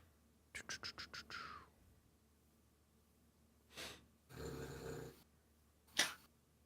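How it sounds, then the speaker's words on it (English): A Boston Terrier snoring and snorting nearby at a quiet level: a quick series of short snuffling breaths, then a few longer raspy snores and a final sharp snort. "If you hear any snoring, that's my dog."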